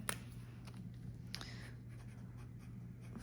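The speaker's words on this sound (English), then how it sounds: "I'm gonna write on here" Pen writing on a paper savings envelope, soft scratchy strokes in short bursts close to the mic over a quiet steady hum.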